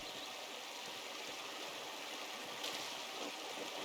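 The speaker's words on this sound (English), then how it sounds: "The waterfall must flow down from the snowmelt in the mountains above the abbey." Steady, dense rush of a waterfall in the video game Pentiment, falling from mountain snowmelt above an abbey, a constant even wash of water heard alone for a few seconds.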